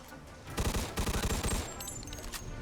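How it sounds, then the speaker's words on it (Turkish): Rapid burst of gunfire from a shotgun in the video game Mafia 2, a dozen loud, evenly spaced blasts in quick succession, then trailing softer shots and distant game ambience. "Pompalı sıkıyorsun gerçi."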